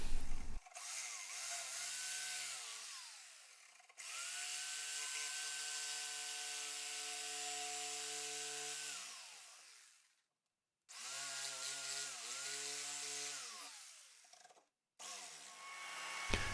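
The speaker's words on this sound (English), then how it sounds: "Next we're going to do some speed cutting with my jigsaw." A jigsaw cuts crankbait lure blanks in loud bursts, the motor whining steadily through each pass, stopping briefly and starting again for a second stretch of cutting.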